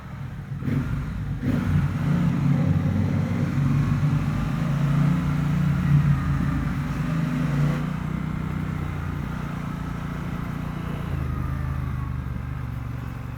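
A Triumph Bobber 1200 motorcycle cruises on a motorway, its engine a steady mid-pitched drone mixed with wind and road rush, with slight rises in revs.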